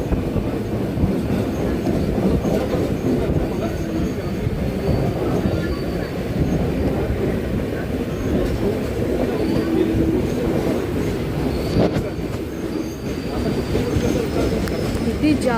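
Janshatabdi Express rolling through Kurla station, heard from on board as a loud, steady rail rumble with clickety-clack wheel beats and occasional squeal, continuous and close, with faint voices underneath.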